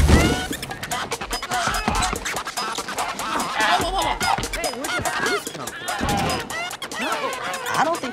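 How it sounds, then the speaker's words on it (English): Goose honks cut up with record scratching inside a film score for Spider-Man: Across the Spider-Verse, loud, choppy, rapidly repeated squawks and scratch sweeps layered over the music. "So I'm very pleased to have maybe done one of the first film scores to ever feature a record scratched goose in it."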